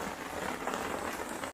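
Steady rain pours onto a mountain hiking trail on Mount Ungaran in Central Java, a dense, even hiss of drops that holds at one level throughout and then cuts off abruptly.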